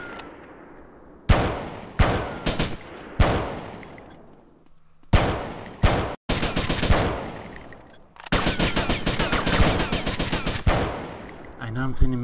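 Repeated gunfire from a gun in GTA Vice City: sharp separate shots give way to long dense bursts of rapid automatic fire, loud and close, with short pauses between volleys and no talking.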